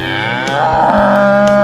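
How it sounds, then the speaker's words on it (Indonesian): A cow moos in one long, loud, sustained low call that holds steady from start to finish, with no other voices or sounds around it. "nah ini pasti suara sapi, bukan suara zebra ya."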